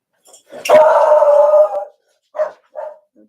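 A single drawn-out dog bark, close and loud, followed by two shorter barks or yips after a brief pause, with no talking over them.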